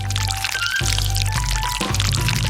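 Pizza sauce poured onto a pizza base in a home kitchen, a steady close wet pouring and spreading sound that runs unbroken throughout with no talk.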